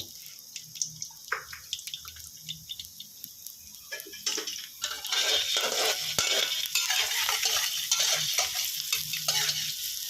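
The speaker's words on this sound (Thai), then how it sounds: "ใส่กระเทียมลงไปเจียวให้หอมนะครับ" Chopped garlic dropped into hot oil in a Thai home kitchen while making stir-fried snow peas with pork: scattered clicks and stirring at first, then a steady, close sizzle that builds and continues.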